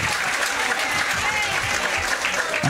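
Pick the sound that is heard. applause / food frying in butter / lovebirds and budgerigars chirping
applause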